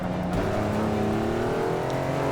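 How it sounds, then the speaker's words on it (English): Red Ferrari 250 GTO in Forza 6 on the Rio de Janeiro circuit, its engine note loud and close, holding a sustained high rev with rising and falling harmonics and no break throughout. "that was the Ferrari 250 GTO in red"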